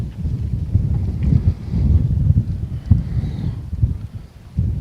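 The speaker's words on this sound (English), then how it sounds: "that wind is gusting hard right now." Gusting wind buffets the microphone on a golf course during a tournament round in Puerto Rico, a loud continuous low rumble swelling and easing in uneven gusts with no voices.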